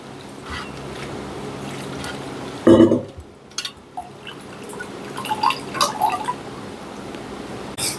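Wet squishing and dripping close up as tamarind pulp is squeezed for its sour water, with a brief loud splash and scattered liquid drips afterward, no talking.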